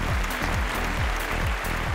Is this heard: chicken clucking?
no